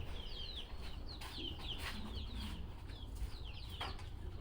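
Chickens on a natural poultry farm raised for eggs and meat cluck and chirp softly at a distance, with scattered high calls over steady outdoor background noise and no talking.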